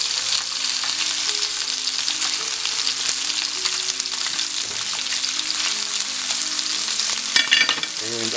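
Lamb chops fry in a pan with a steady, close crackling sizzle that runs the whole time, and a brief sharper burst of spatter comes near the end.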